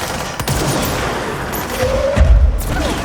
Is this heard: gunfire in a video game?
yes